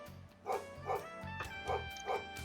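A dog barks in short bursts, four distinct woofs spaced about every half second over steady video game background music in Trails of Cold Steel III.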